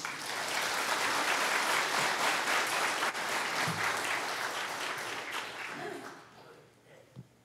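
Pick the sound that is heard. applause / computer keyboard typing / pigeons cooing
applause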